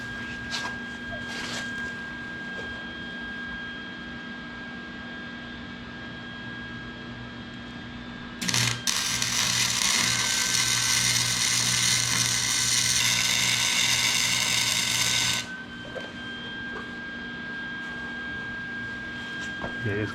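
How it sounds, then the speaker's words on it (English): Welder working on an angle iron go-kart frame, a loud harsh crackling buzz that starts abruptly and runs steadily for several seconds before cutting off, with a shop hum in the background. "So I'm just going to weld up this part here now."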